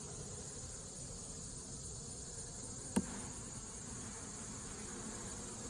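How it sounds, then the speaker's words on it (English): Honeybees hum in a hive box, a steady, even insect drone that holds without a break, with one sharp click partway through and no talking. "Good amount of bee volume in here,"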